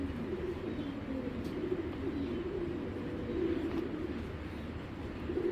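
A young Army-breed pigeon coos softly and continuously, a low, faint murmuring that carries on steadily for several seconds with no talking.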